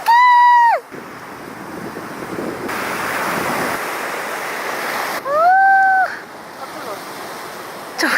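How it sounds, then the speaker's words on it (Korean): Loud, large ocean surf crashes and rushes continuously, with wind noise on the microphone and brief high-pitched shouts at the start and again later. "파도가 겁나 크네요."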